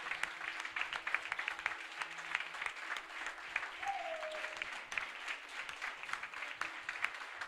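A church congregation applauds steadily, a dense, even patter of many hands clapping at moderate distance, with a brief voice rising faintly over the clapping midway.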